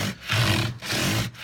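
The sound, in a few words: flat sanding block rubbed up and back on a wooden guitar neck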